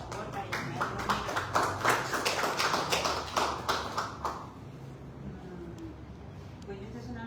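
An audience at a book presentation applauds with steady, close clapping for about four and a half seconds before it fades out, and a voice starts talking as the clapping dies away.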